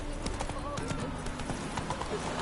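The horse Roach gallops in The Witcher 3, steady rhythmic hoofbeats drumming under a man's speech, with a faint snort, close and continuous.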